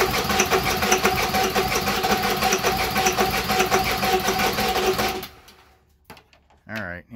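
A starter motor cranks a 7.3 Powerstroke diesel engine in a loud, steady rhythmic churn for about five seconds before cutting out, followed by a brief voice near the end.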